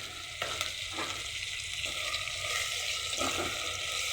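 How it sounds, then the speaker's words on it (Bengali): Green chilies and tomatoes, salted, fry in a pan with a steady, close hiss of sizzling oil and a few soft stirring scrapes, no voices. "এখন আমি কাঁচামরিচ আর টমেটো দিয়ে দিলাম এটাকে একটু হালকা করে ভেজে নেব"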